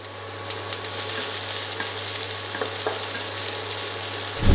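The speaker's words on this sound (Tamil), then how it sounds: "பெரிய வெங்காயத்தை ஆட் பண்ணிக்கோங்க. பண்ணிவிட்டு நல்லா சாட் பண்ணிக்கோங்க" Large onions sizzle and crackle steadily in hot oil for egg tomato bhurji, with occasional stirring scrapes, and a low hum runs underneath.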